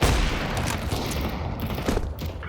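Rapid bursts of gunfire and booming shots in Counter-Strike 2 on the Lost Coast map, loud and continuous, with no talking.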